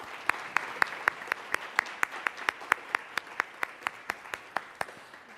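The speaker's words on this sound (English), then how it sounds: "Let's give them a round of applause." A single person's claps after a talk on AI, about twenty evenly spaced sharp claps in a steady rhythm, fairly quiet with soft room noise behind.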